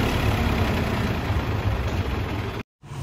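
A Mahindra tractor engine idles up close in a village yard, a steady low diesel rumble that runs unbroken until a brief cutout near the end.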